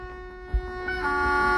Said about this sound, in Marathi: आता एक लंबासा हॉर्न देऊन डिपार्ट करूया